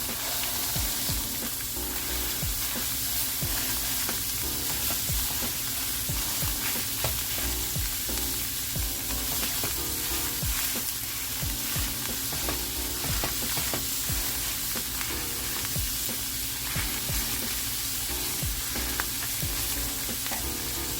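Meat browns in a hot pan, a steady, even sizzle with fine crackling pops running continuously and unchanged throughout, close and moderately loud with no one talking.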